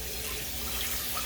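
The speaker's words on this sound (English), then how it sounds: "Just going to give it a quick rinse." Water runs steadily from a kitchen tap as cooked pasta is rinsed, a continuous close hiss and splash with no talking.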